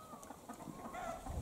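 A chicken clucks in quick, soft bursts nearby, a short run of low repeated clucks.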